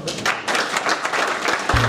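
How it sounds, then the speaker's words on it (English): A burst of applause from a crowd, dense and steady clapping filling the short moment. "applause"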